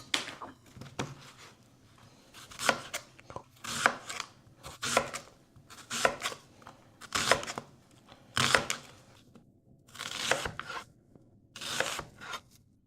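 A knife slices an onion into thin half rings on a cutting board, making a steady series of crisp, close chopping strokes in an even rhythm with short pauses, with no talk over it.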